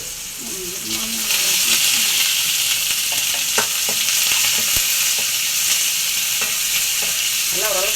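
Onions and curry leaves frying in oil for sambar, a loud, steady close sizzle with occasional stirring knocks, and a brief voice near the start.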